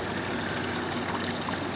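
Water trickles steadily in a garden pond with fish, a soft continuous running and splashing texture at close range with no voices.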